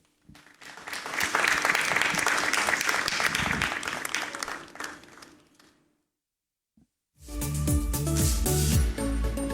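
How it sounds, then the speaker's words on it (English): An awards-gala audience at the JoyNews Impact Makers Awards in Ghana gives a warm round of applause, dense clapping swelling and fading over several seconds before a brief pause and then music starting. "With a big round of applause, please help me welcome Na Anyama Macaulay"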